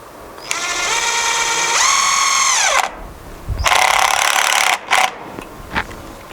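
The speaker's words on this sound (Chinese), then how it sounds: "现在我找到这样一个很长的螺钉， 然后把它drill在这儿。" Power drill driving a long screw into a lawn mower blade setup, the motor whining in steady bursts that rise and drop in pitch, with short stops and restarts toward the end.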